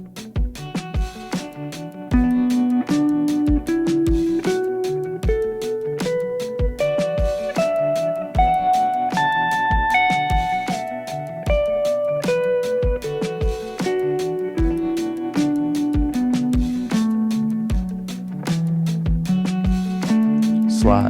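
Guitar pentatonic scale played note by note up the neck to its highest point, then sliding into the next position and descending, each note picked clearly in a steady even rhythm, close and alone with no talking.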